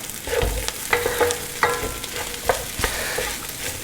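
Scrambled egg and vegetables being stir-fried together for egg fried rice, a moderate sizzle broken by sharp irregular scrapes and knocks of a spatula against the pan, close and without speech.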